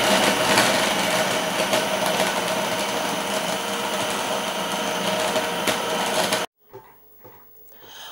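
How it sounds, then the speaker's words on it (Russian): A food processor blending ice cream with berries into a thick milkshake, a loud, steady motor whir that runs continuously, then cuts off abruptly, leaving a few quiet clatters. "Теперь вместе с ягодами опять же взбиваю в комбайне."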